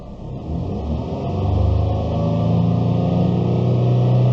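A car engine with a suspected bad battery or alternator is revved to about 3,000 RPM. A close, steady rumble swells upward and then holds at a sustained drone with no voices.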